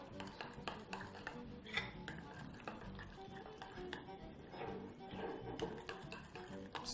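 A spoon stirs grated hard-boiled egg in a bowl, giving light repeated scraping and clinking against the bowl over a faint background hiss.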